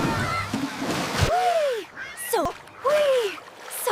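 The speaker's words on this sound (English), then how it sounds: "Are you ready for a splash, everyone? Ready, set, go! Splash!" Cartoon ducklings splash into water, giving watery bursts and sloshes broken by quick chirpy, duck-like calls, a lively splash near the start and bright squeaky sweeps after it.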